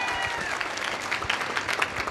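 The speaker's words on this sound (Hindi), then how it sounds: "जोरदार तालियां मेरी टीम के लिए" An audience claps for a sales team at a book-selling motivational event, a dense, steady burst of applause, moderately loud and continuous, with no voices over it.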